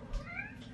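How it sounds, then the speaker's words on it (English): A pet cat gives a short, soft meow near a person in a home kitchen, a brief mid-pitched call that stands alone with no talk over it. "My pretty kitty, meow."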